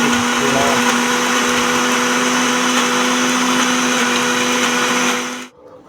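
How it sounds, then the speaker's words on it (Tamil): An electric mixer grinder grinds coconut for fish curry in a loud, steady whirring drone that runs for several seconds close by and then cuts off abruptly, with no talk. "அப்புறம் தண்ணி ஊற்றி நல்லா மிக்ஸியில் அரைச்சிக்கலாம்."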